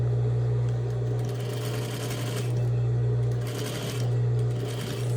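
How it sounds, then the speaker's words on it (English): A sewing machine stitches forward and back while attaching the straps to a tote bag, stitching in the round: a steady, close motor hum with a low drone that swells in brief louder bursts of needle chatter, with no talking. "So I'm going to stitch and back stitch."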